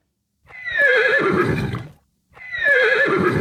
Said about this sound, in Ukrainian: Так, це кінь. Кінь, він так може і ржати.